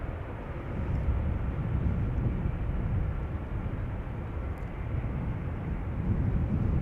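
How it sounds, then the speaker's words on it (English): A Cargolux cargo aircraft taxiing at Amsterdam Schiphol Airport, heard as a steady, loud, broadband engine rumble and roar that holds throughout with slight swells, with no talk. "The Cargolux Queen is still making her way over to the taxi lane back to the"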